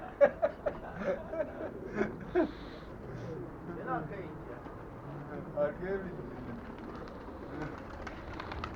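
A runaway homing pigeon lands on a rooftop and coos a few times, soft and fairly close, with brief wing sounds early on and people talking throughout.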